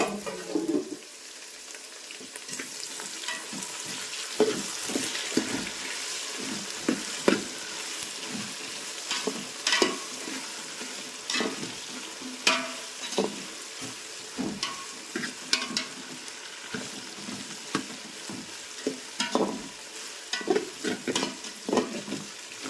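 Onions frying golden with garlic in a very large cooking pot, with a soft continuous sizzle broken by repeated scraping stir strokes that are close and uneven in rhythm.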